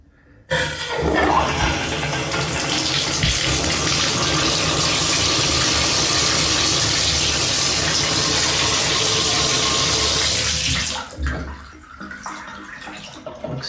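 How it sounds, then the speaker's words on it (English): Water rushing through a newly installed plumbing valve as the supply is turned back on, bursting in abruptly and flowing in a loud, steady hiss before cutting off near the end. "All right, I turned the water back on."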